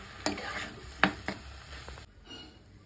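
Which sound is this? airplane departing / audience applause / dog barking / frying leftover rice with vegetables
frying leftover rice with vegetables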